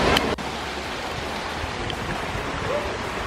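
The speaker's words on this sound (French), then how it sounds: "je pense qu'on est arrivé à la cascade" A waterfall in Martinique pours in a steady, broadband rush, close and continuous throughout, with a brief louder burst at the very start.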